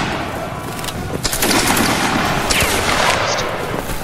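Dense musket volley fire in a Napoleonic line-battle video game, many shots crackling and popping over each other in a sustained, uneven barrage with a few sharper reports standing out.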